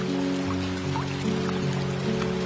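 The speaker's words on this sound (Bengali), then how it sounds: "হঠাৎ করে বৃষ্টি শুরু হয়ে গেছে।" Sudden heavy rain at Gazipur's Joydebpur bus stand, a steady dense patter and wash under a low traffic drone, continuous and fairly loud throughout.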